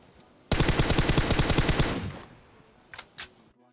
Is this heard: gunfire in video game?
yes